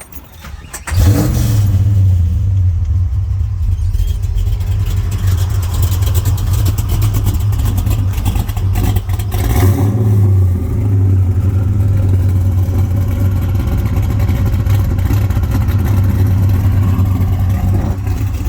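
A 1969 Chevrolet Chevelle SS's 502 big-block V8 crate engine with 3-inch exhaust cranks and fires, then settles into a loud, throaty rumble that holds steady, with a brief surge partway through, close by.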